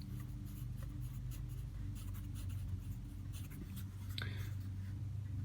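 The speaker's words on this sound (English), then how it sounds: "I'm going to write it down here" Chalk or marker writing on a board during a math lesson, heard as quiet, close scratching strokes in short irregular bursts over a steady low room hum, with no speech.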